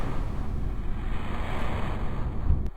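Steady rush of water and wind as a spacecraft splashes down into the ocean in Kerbal Space Program, a continuous loud surf-like wash filling the whole moment, with a brief thump near the end.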